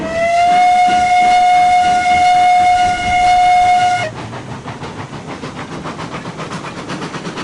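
A steam locomotive whistle in the game Railroads Online blows loud and steady for about four seconds, then cuts off into rhythmic chuffing and hissing from the engine.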